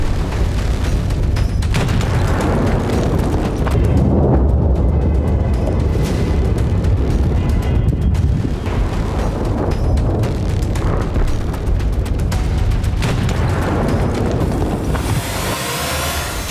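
Heavy bunker buster bomb explosions in an Israel-Iran war strike on an Iranian nuclear facility, a sustained loud roar of deep booms and rumbling blasts that rolls on without pause before fading near the end.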